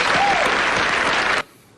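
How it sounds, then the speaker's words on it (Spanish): Dense audience applause at a Peruvian television show, loud and sustained for over a second before cutting off abruptly into near silence. "Un aplauso para él, por favor."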